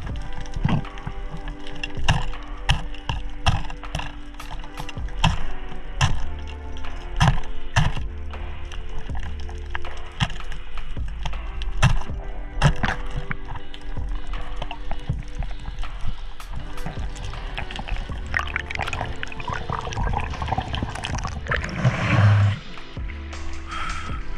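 Kina sea urchins being smashed underwater with the butt of a speargun while spearfishing off Northland, New Zealand: a long run of sharp, irregular knocks and cracks over a constant muffled underwater rush, ending in a brief louder scuffle.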